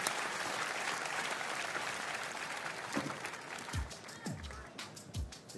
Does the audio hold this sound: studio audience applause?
yes